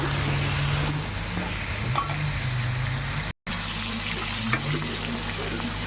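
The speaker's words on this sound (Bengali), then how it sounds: "পটল আর দুই একটা আলু দিয়েছি দিয়ে এটা ভালো করে ভাজা করে নিই" Pointed gourd and a couple of potatoes frying in oil, a loud steady sizzle with stirring, a low humming tone beneath and a brief dropout midway.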